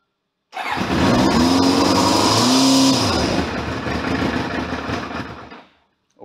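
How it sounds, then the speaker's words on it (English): A Kawasaki GPX750R motorcycle engine cranks and catches, the starter whine rising into a loud running engine with shifting pitch for about five seconds before cutting off abruptly, close by. "this might crank over for a little bit, just while it fills the bowl."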